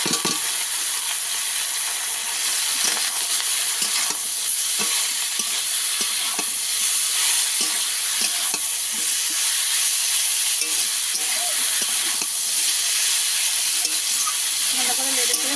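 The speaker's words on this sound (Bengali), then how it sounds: "ভালো করে নেড়ে চেড়ে শাকটা একটু ভেজে নেব" Boiled leafy greens stir-fried with cumin in a pan, a steady broad sizzle with frequent scraping stirs throughout, fairly loud and close with no talking.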